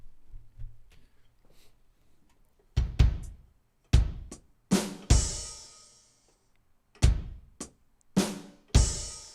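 Sharp bass drum and hi-hat foot hits ring out in an uneven pattern, some strikes paired close together, each with a bright cymbal-like wash decaying after it; a faint voice mumbles at the start.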